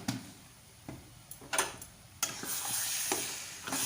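Taro leaves with chickpeas being stirred and sautéed in a pan, with spoon scrapes and strikes against the pan over a steady low sizzle that builds toward the end; no talking.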